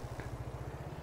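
A tractor engine in Farming Simulator 22 idles with a steady low rhythmic chug, close and moderately loud, with no talking over it.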